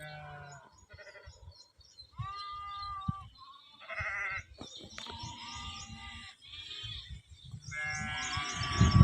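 A flock of about 100 sheep bleating over and over, many overlapping calls near and far, with faint bird chirps in the background.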